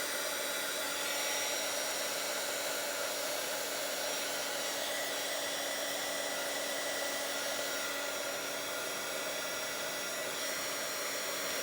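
A dryer blows steadily and loudly at close range, drying paint on a mixed media art page, its even whooshing roar holding without pause and with no voices over it.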